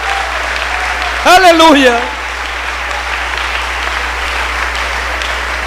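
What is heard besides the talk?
church congregation applause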